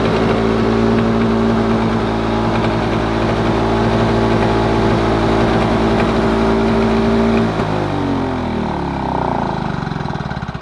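A Lawn Boy lawn mower engine runs loud and close at a steady high rev, its pitch dropping and wavering toward the end as the throttle shifts, with no voices.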